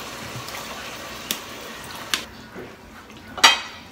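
Water poured into a pot of sautéed ground beef and potato in a home kitchen, heard as a soft running wash with a few sharp clinks of utensil or pot near the end.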